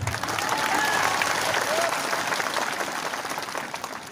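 An audience at a public gathering claps in sustained, dense applause that fills the whole stretch and tapers slightly toward the end, with a voice speaking over it.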